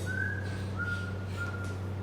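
A person whistles through partly closed lips, producing three sustained, thin tones with short gaps, over a steady low hum.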